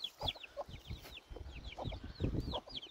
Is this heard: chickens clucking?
yes